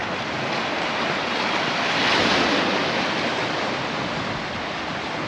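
Sea waves break and wash onto the middle beach at Palmanova, Mallorca, a loud steady roar of surf that swells to a peak midway, mixed with wind buffeting the microphone, with no voices.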